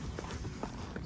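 Horse hooves clip-clop in a quick, uneven rhythm of several soft thuds on the ground, close and fairly faint, over steady outdoor background noise, during cattle-catching work with the horse.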